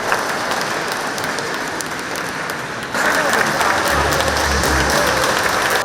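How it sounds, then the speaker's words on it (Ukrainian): Steady applause from a crowd fills the room at a regional hospital's 80th anniversary celebration, growing a little louder partway through, with no break in the clapping. "З аплодисментами зустрічали й колишнього очільника обласної лікарні Івана Сидора."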